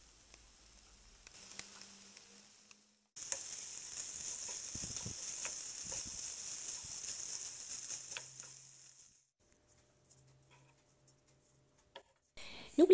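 Rice and peas frying in a pan hiss loudly and steadily for about six seconds while a utensil scrapes and stirs through them, then the sizzle stops abruptly, leaving near silence and a few faint clatters.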